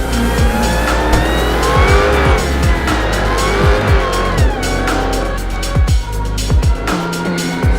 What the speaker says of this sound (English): 2020 Dodge Charger SRT. Hellcat wide body with launch control.